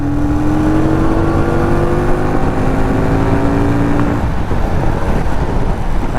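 Fekon Victorino 250i classic V-twin motorcycle engine held at a steady high rev with a slowly rising whine, loud and close, alone without talk.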